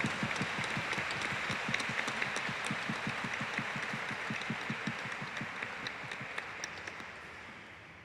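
A Catholic congregation applauds during Mass for the feast of Saint Ignatius of Loyola in the Archdiocese of Bucaramanga, with rhythmic, evenly paced clapping that slowly fades over about eight seconds.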